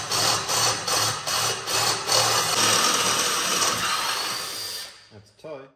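A step bit drills out a hole in a cast Holden V8 exhaust manifold, making a loud, harsh, continuous grinding close by for about five seconds before it winds down and stops.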